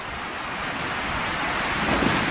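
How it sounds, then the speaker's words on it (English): A steady, roaring rush of strong thunderstorm wind buffeting the microphone while camping under a tarp in Great Basin National Park, Nevada, loud and continuous with a slight surge near the end. "I am waiting out a pretty strong thunderstorm."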